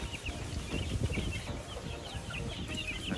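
Chickens cluck and chatter close by on a game farm in a busy, overlapping flock, with no talking.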